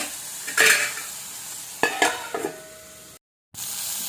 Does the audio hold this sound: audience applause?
no